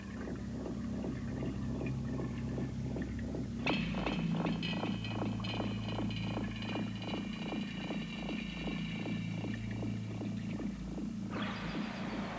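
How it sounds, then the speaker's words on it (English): Sewage flow pours into the inlet of a treatment works, a constant loud rushing rumble with a regular pulsing, machine-like throb running under it and no talking. "This is the inlet to the treatment works where all of the flow comes in."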